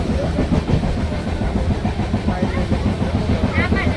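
Steady rumbling ride inside a passenger train from Mumbai to Bhavnagar, with rhythmic clatter from the wheels throughout, loud and close, with chatter mixed underneath.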